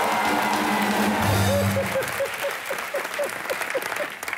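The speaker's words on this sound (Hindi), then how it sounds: "थोड़ा एक बार जोरदार तालियां वीरू पाजी के लिए" Loud studio audience applause at a comedy talk show, dense clapping that rises under a spoken introduction, then carries on steadily with tonal music notes and a voice over it.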